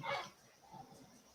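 A small dog whimpers and yips on the floor, wanting to be picked up, a short close cry followed by softer whines.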